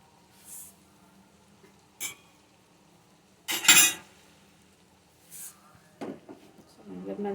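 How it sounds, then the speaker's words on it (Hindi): Whole masoor dal is stirred gently and the pot is covered with a lid, heard as a few sparse metallic clinks and a louder clatter amid near-silence, with faint sizzling and soft kitchen handling toward the end. "इस तरह से अच्छी तरह से मिक्स कर लें हल्के हाथ से और फिर से कवर कर दें"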